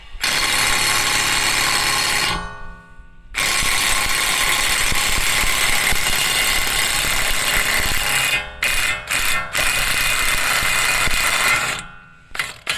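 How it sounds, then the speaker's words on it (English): An air impact wrench works on a passenger-side wheel bearing of a 2015 Dodge Journey, close and loud, hammering in long sustained bursts with brief gaps and a few short stuttering pulses near the end. "It just took a little bit of work with the impact to get that out"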